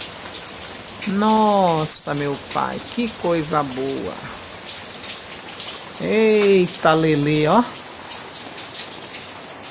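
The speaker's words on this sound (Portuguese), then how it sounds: "Chuva meia fortinha de vento." Steady windy rain pours onto potted plants, ferns and a tiled patio area, a constant hiss of falling water, while someone talks excitedly over it.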